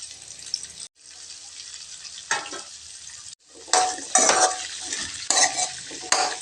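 Radish pieces sautéing in oil in a pan, a steady sizzle broken by several bursts of stirring and scraping, close and fairly loud with no talking.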